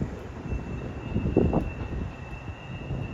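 A train passes on the rails, a fairly loud rumble with a surge of wheel noise near the middle, heard outdoors with no talking.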